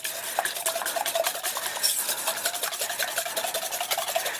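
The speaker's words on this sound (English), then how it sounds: "3 eggs whisked and 1 teaspoon of vanilla, okay? So let's just mix those up." Eggs whisked with vanilla in a bowl, a steady rapid scraping and tapping of the whisk against the bowl that runs continuously and fairly close, with no talking.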